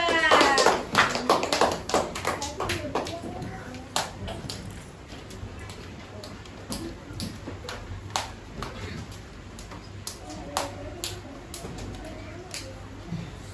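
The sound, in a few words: applause for a group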